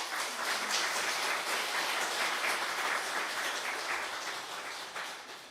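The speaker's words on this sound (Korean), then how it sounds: "환영 박수 하겠습니다." A church congregation at a Sunday service claps in welcome, steady broadband applause holding throughout and tapering slightly toward the end, with no talking over it.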